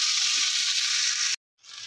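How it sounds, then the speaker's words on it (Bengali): Potatoes seasoned with salt and turmeric fry in a pan with a steady, loud sizzle for over a second, cut by a short silence before the hiss resumes more quietly. "দিয়ে এবার আলুটা আমি ভালো করে কষিয়ে নেব।"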